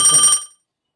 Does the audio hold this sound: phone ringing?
yes